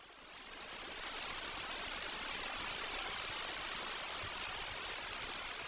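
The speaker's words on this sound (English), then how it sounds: "the daily downpours of the rainy season provide a welcome break from the stifling heat of the dry months" Steady, dense hiss of a heavy tropical rainy-season downpour, swelling in over the first second and then holding an even, enveloping roar with no voices.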